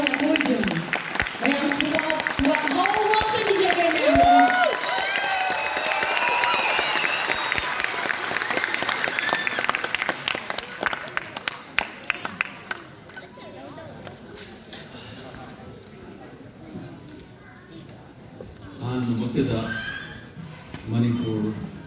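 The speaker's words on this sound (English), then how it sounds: "Ladies and gentlemen, a big round of applause" Welcoming applause for a speaker at a Patriots Day event in Chowdiah Memorial Hall, Bangalore: loud, dense crowd clapping with voices mixed in, fading after about ten seconds into scattered claps and murmuring, with speech rising near the end.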